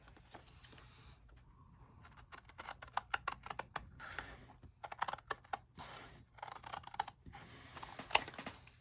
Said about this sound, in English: let me go ahead and trim this off